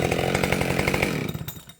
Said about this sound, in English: That's a good running saw.